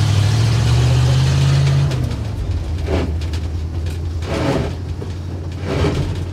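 A 1962 Ford C750 cabover truck pulls away in second gear, a steady loud engine drone that dips as the gears shift, followed by rising revs and rhythmic surges.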